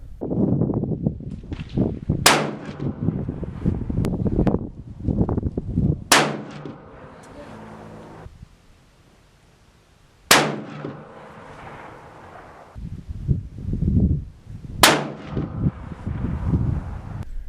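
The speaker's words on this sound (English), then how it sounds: "And I'm just shooting targets at 100 yards." A 7mm-08 rifle firing Hornady ELD Match handloads at steel targets 100 yards away outdoors: four loud, widely spaced shots, each followed by a ringing metallic clang, with wind noise buffeting the microphone between them.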